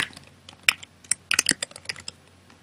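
Rapid, uneven typing on a computer keyboard as a folder name is entered, then a final key press for Enter: crisp close clicks in irregular bursts with no talking.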